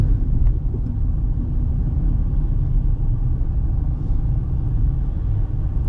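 Steady low rumble of a car cabin as the driver eases off speed during a driving-test practice run, a constant engine and road drone throughout with no talk.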